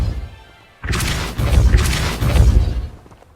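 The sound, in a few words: Repulsor spell blast in video game Hogwarts Legacy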